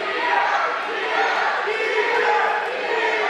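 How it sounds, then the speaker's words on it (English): A wrestling crowd at a Delaware pro wrestling event fills the hall with a sustained, loud roar of disapproving voices that swells and dips without letting up. "Crowd is showering down their"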